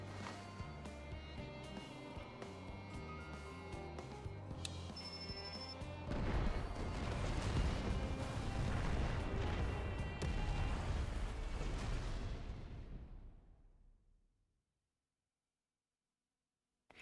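Explosions in the video game Final Fantasy XIV build into a sustained roaring barrage of crashes and booms over game music, loud for several seconds before fading to silence.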